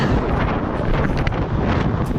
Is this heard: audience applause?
no